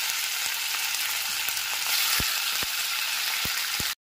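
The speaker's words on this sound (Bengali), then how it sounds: "গ্যাসের ফ্লেমটা মিডিয়ামে রেখে সমস্ত চিকেনের টুকরোগুলোকে খুব ভালো করে ভেজে নেব" Marinated chicken pieces fry in hot oil over a medium gas flame, a steady loud close sizzle with a few sharp clicks of utensil contact, then it abruptly cuts off.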